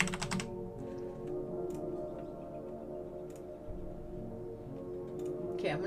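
Rapid clicking of computer keyboard keys typed in irregular bursts, close and fairly clear over a steady low hum, while someone tries to log in to a web page that won't load.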